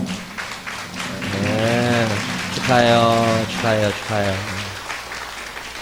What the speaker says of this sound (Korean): 오늘 일어나면 큰 박수 한번 해주시기를 바랍니다